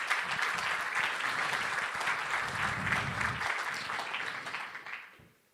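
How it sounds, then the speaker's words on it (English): Audience applause at an international investment summit, a dense wash of many hands clapping in a large hall, steady for several seconds and then tapering off quickly at the end. "So a round of applause for all our strategic partners"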